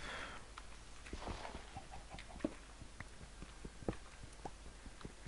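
Minecraft chickens clucking in a hardcore survival game, short repeated clucks and chirps scattered over a faint steady game background, with no talk.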